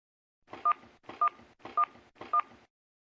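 A telephone number is dialed on a keypad, producing four evenly spaced, crisp touch-tone beeps, each with a faint click, close and alone in silence.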